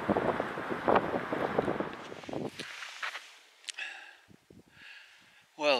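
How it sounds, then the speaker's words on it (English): Gusty wind at a wilderness lake buffets the microphone in low rumbling bursts for the first half, then fades, leaving quieter scattered sounds and a brief voice near the end. "But it's getting windy."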